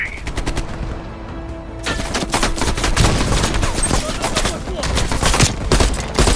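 Sustained, loud machine gun fire in the Call of Duty: Black Ops Cold War campaign, rapid overlapping bursts that grow denser after a couple of seconds, with battle noise throughout.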